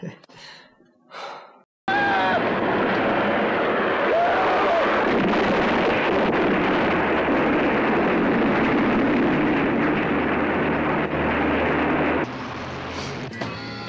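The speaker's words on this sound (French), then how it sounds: "Tu vas voir les explosions, ça le fait." A sustained, roaring blast of rumbling explosion noise from an action film fills most of the clip after a brief quiet start, loud and dense throughout.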